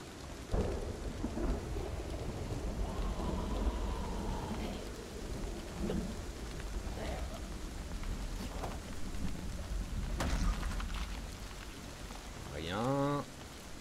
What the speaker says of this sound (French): Il fait un bruit en plus cet orage.